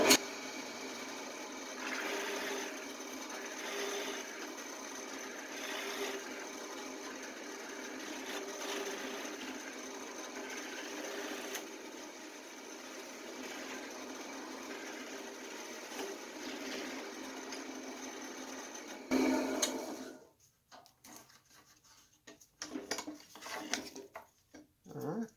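A drill press boring a deep hole in brass with a Forstner bit gives a steady, moderately loud mechanical whir that runs for most of the clip, then stops abruptly and leaves faint scattered handling noises.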